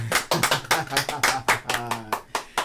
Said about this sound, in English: Let's clap that up, clap that up